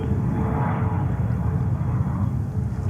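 A Boeing 747 jet at JFK Airport produces a loud, continuous roar of engine noise, broad and steady throughout with no voices over it.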